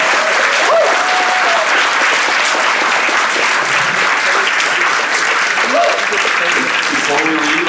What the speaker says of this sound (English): Audience, I'd like you to give our candidates a great round of applause.